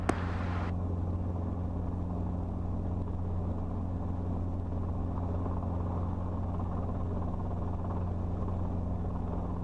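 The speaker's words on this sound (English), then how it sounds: "the helicopter is going to sidestep to the grass" A helicopter at the Watsonville airfield idles and moves with a constant deep engine and rotor drone, close and steady throughout, inside the cabin.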